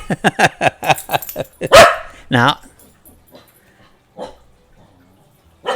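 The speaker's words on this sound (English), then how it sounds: "I said we're not barking right now." A dog barks several times close by in quick, sharp bursts, then gives a couple of louder, drawn-out barks before going quiet, with a person speaking over and between the barks.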